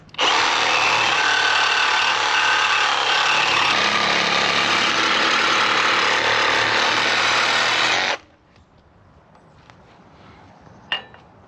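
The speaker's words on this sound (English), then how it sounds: "we're going to try the trusty Sawzall. See how this works at cutting this off" A Sawzall reciprocating saw cuts through the metal of a boat trailer, a loud, steady buzzing rasp that runs for about eight seconds before stopping abruptly, leaving faint rustling and a brief clank.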